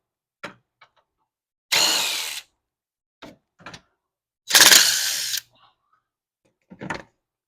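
A 3/8 ratchet loosens two 10mm head bolts on a cover under a 2004 Toyota Sienna. Short clicks and two longer ratcheting bursts sound close by, with metallic taps in the pauses and no talking.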